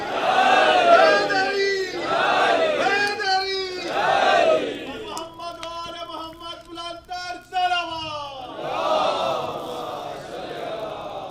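A large gathering at a Muharram majlis shouts religious slogans in unison for Ali, loud rhythmic call-and-response chants rising in waves, with a sustained vocal passage in the middle before the crowd shouts again.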